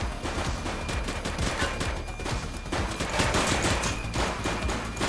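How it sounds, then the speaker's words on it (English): Gunfire in the video game The Precinct, a dense, rapid fusillade of loud shots and bursts rattling continuously. "He's shooting!"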